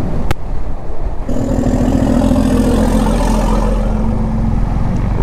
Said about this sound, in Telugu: లారీ ఏంది, ట్రాక్టర్ సౌండ్ వస్తుంది